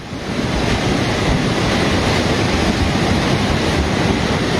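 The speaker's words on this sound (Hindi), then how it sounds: "ये पानी का जो बहाव आपको नजर आ रहा है" Floodwater after a cloudburst in Kullu surges past in a loud, steady roar that fills the whole stretch without a break, with no voices over it.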